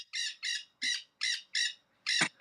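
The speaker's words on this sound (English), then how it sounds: "That crow is loud as fuck." A crow caws loudly outdoors, six harsh, evenly spaced calls ringing out one after another with short silences between and no other sound around them.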